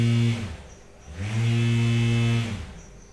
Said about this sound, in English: And just give it full throttle, see what happens.